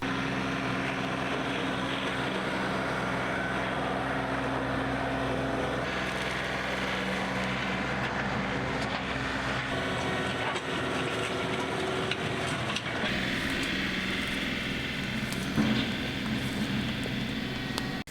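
A tractor engine working on an Alaskan homestead, running as a steady, loud mechanical drone throughout, with no talk.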